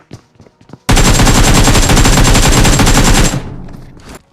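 Sustained automatic gunfire in the mobile battle royale game PUBG Mobile, one loud rapid burst lasting about two and a half seconds, preceded by a few scattered shots and fading into echo afterward.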